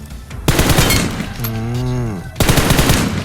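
Rapid automatic gunfire in a PUBG Mobile match on the Rondo map, loud close bursts of shots broken by a brief tonal game sound before the firing resumes.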